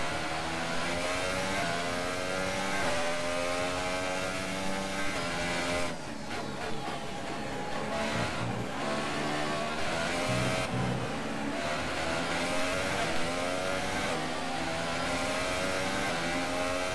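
A Formula 1 car's engine screams continuously in the F1 2018 racing game, high revs rising and falling through gear changes, loud and close throughout.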